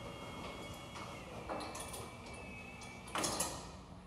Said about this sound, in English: Notice I just pushed the button, and my garage door